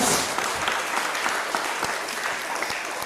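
A crowd breaks into strong applause at a talk, a thick continuous clatter of many hands with sharper claps popping out, loud and close throughout.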